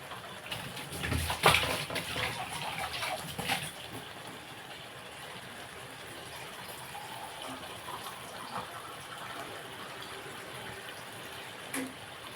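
Water gushes and splashes into a container, strongest at first, then settling into a softer, steady trickle.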